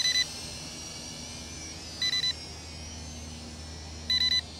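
Quick triple beeps from a Tomzon D28 camera drone controller sound at regular intervals about two seconds apart, bright and electronic over a faint steady hum.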